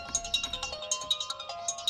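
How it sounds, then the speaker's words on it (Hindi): A mobile phone rings with an incoming call, a rapid repeating electronic melody of short bright tones pulsing steadily, fairly soft and alone in a Hindi-dubbed action film scene. "अबे कौन वीआईपी आदमी सुबह सुबह तुझे फोन कर रहा है बे?"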